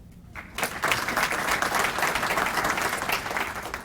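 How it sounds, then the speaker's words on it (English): An audience claps warmly at a city State of the City event, a dense, steady burst of applause that swells after a quiet start and holds for several seconds with no talking. "thank you for the warm applause there for everybody"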